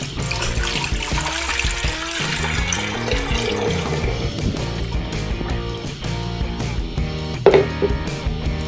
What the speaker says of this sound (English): We're going to use 2 quarts of water,